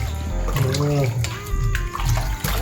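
Chicken being washed in vinegar and water in a Jamaican-style kitchen, with close splashing and running water under loud, overlapping talk throughout.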